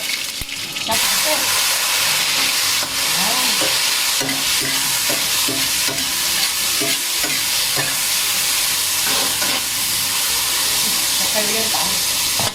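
Yellow bolete mushrooms stir-fried in a wok, a loud, continuous sizzle with steady scraping and tossing of the spatula, close up, with occasional voices underneath.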